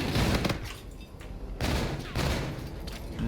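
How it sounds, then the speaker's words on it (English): Burst pistol fired in Call of Duty: Infinite Warfare on PC, loud rapid clusters of gunfire in quick successive bursts, with short gaps between volleys and no talking. "Here we have our burst pistol."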